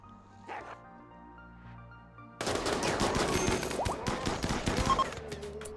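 Turrets in the RimWorld video game open fire after a quiet stretch, a dense burst of rapid gunfire cracks and bangs that keeps going close and loud to the end.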